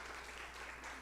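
Applause from a church congregation during a Sunday livestream in Kaohsiung, greeting a children's hymn performance; a short, steady wash of clapping with no pauses.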